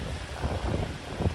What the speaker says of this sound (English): it's getting really windy.